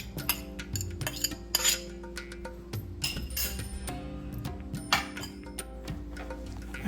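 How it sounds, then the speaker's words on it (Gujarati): A spoon clinks and scrapes against a metal bowl while grated bottle gourd is stirred into a flour mixture, producing repeated close, bright taps and rattles in an irregular rhythm. "આ બધી વસ્તુને હવે આપણે મિક્સ કરી લેવાની છે બરાબર, સારી રીતે હલાવજો, બધું મિક્સ થઈ જવું જોઈએ"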